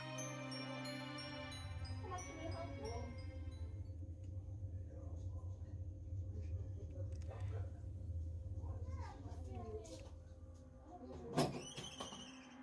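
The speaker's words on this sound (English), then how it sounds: "the door lurches shut" A hotel room door is kicked and lurches shut with a single sharp thump near the end, heard under steady background music and a speaking voice.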